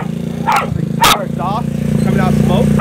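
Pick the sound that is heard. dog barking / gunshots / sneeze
dog barking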